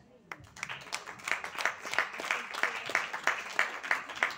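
An audience at a cinema event applauds, the clapping starting sparse and then building into steady, even rhythmic applause that continues at moderate loudness.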